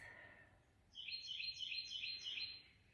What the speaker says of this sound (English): And if you hear the birds,